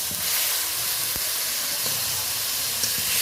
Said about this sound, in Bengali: এবার খুন্তি দিয়ে মশলাগুলোকে পেঁয়াজ, কাঁচা লঙ্কা, টমেটো ভালোভাবে নেড়ে নিচ্ছি